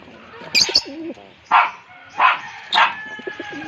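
A small pet bird coos in a quiet room, giving four distinct, fairly close calls in an uneven rhythm with short pauses between them.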